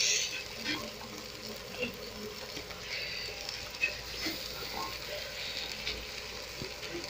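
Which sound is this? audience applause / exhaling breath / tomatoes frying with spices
tomatoes frying with spices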